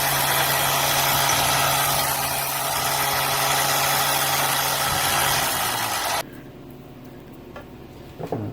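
A Jeep's electric winch motor runs by itself with a loud, steady whirring drone and some vibration. It cuts out abruptly near the end, leaving quieter background noise and a few small knocks.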